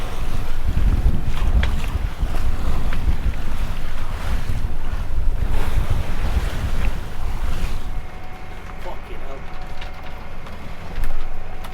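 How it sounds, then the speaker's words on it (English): Choppy sea slaps and churns around an old sailing boat, with gusting wind buffeting the microphone in a loud continuous roar that eases slightly toward the end. "The sea has been really choppy."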